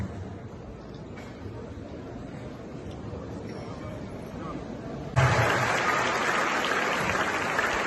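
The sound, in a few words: audience applauding at a university talk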